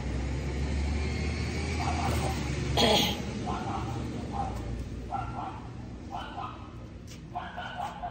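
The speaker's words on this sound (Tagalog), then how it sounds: "Nag-aaway na naman yung dalawang aso ko. Ingay na naman." Two dogs fighting and barking repeatedly at a distance, a series of short barks and yips over a low background rumble.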